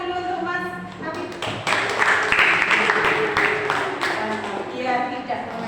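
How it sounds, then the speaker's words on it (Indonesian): Classroom applause for a student, Mas Sabit, during a lesson: a burst of scattered hand clapping from a small group of students, fairly close, mixed with voices and taps, lasting a few seconds. "Beri tepuk tangan dulu untuk Mas Sabit"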